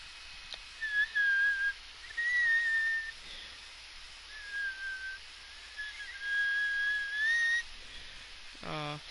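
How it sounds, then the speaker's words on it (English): Someone whistles a thin, wavering tune in short phrases over low background hiss, with quiet gaps between the phrases. "Sorry for my terrible whistling."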